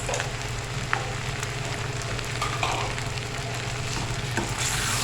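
Potatoes frying with green chillies and garam masala give a continuous close sizzle and hiss, with occasional light taps and scrapes from stirring.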